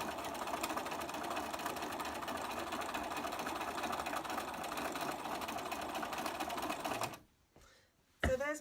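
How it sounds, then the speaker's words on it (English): Sewing machine top stitching and hemming the sleeves of a scrubs top: a steady, close, fast mechanical whirring and rattling for about seven seconds, then it stops, followed by brief handling noise. "we're going to top stitch and hem"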